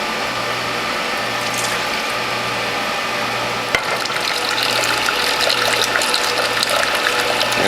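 Apple, ginger and turmeric juice pours into a container on a Whole Health Foundation juicer, a steady wet trickle over a rhythmic mechanical hum from the machine, no voices.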